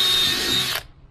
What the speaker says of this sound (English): And go ahead and put our drill through.